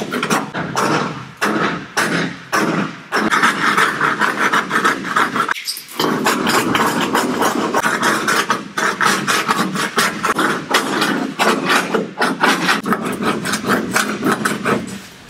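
A scraper works over weak patches on a boat hull in steady, rhythmic rasping strokes, close and loud, with one short pause midway and no voices.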